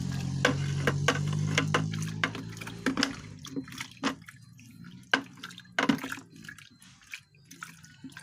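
Liquid organic fertilizer made from fruit waste being stirred in a container, giving soft sloshing and dripping water sounds with a few sharper knocks, close and moderately quiet throughout.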